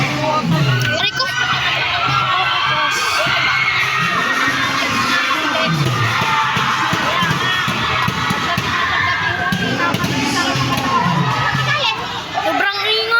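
Loud, noisy crowd at an indoor basketball game, with children shouting and cheering in a constant dense roar of voices throughout, close and busy.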